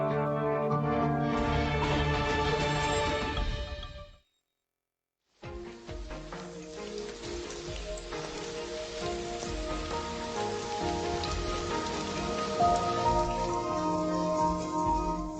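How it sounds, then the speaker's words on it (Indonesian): Steady rain falls in a village setting, a dense, continuous hiss that cuts out briefly near the start and then returns and holds loud and even to the end, with no talking. "Hujan. Akhirnya turun hujan."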